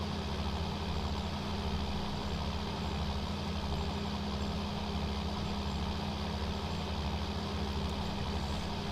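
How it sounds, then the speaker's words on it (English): A tractor engine in Farming Simulator 19 runs at a steady, low, droning idle, close and continuous with no voices. "Tractor."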